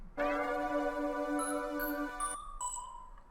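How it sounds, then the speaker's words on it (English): A dry synth bell in a psychedelic beat, heard alone without effects: a sustained harmonic tone with bright high chimes struck over it, then fading out in short ringing notes. "Now for this bell, without anything, it sounds like this."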